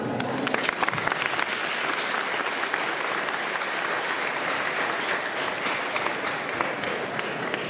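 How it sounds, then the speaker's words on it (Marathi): NCC students at a Save Girl Child youth workshop clap for themselves in a steady, full round of applause that holds evenly from start to finish. "स्वतःसाठी टाळ्या वाजवा."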